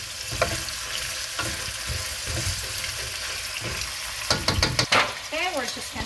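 Onions for bacalhau à brás sizzle steadily in a pan, up close, with scraping stir strokes and a brief burst of clattering and rustling near the end, and no talking.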